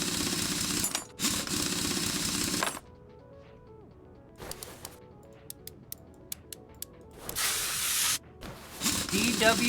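Bursts of WD-40 sprayed from an aerosol can in a car workshop game, two long hissing sprays, then quiet with small ticks, then another hiss.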